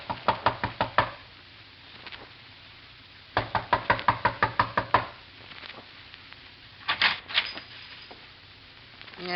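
A radio drama sound effect of knocking on a door, with rapid rhythmic bursts of close, sharp knocks, a pause, a second long run of knocks, then a shorter cluster near the end.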